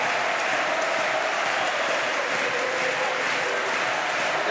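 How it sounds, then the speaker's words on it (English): Crowd applause fills a para badminton bronze medal match in women's wheelchair doubles between Switzerland and Thailand, a steady, dense roar of clapping that holds loud and even throughout with no voices on top. "I wonder how much the noise of this crowd is affecting RENGGLI and MATHEZ."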